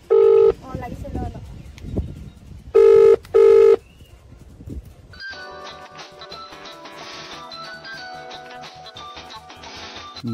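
A telephone rings on an outgoing call. Three short, loud electronic ring bursts come in the first few seconds over low background noise, followed by a steady stretch of tonal music-like sound.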